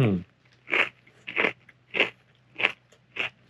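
Repeated crunchy bites and chews of a Babybel cheese sandwich, about six evenly spaced crisp bursts close up, with a brief voice sound at the start.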